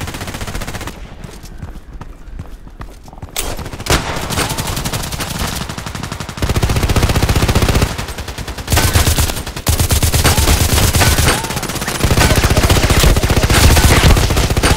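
Sustained bursts of automatic H&K 416c rifle fire in the shooter game Contract Wars. The fire is loud and close, and continuous stretches alternate with short pauses.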